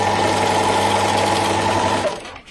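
A sewing machine stitches fabric for underwear in a steady, continuous whir, close and loud, running about two seconds before slowing and stopping.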